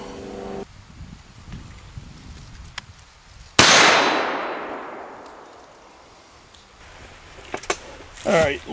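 A single sharp shot from a muzzleloading 1911-style single shot pistol, a loud close blast with a long decaying echo rolling away outdoors, followed by quiet and then faint voices.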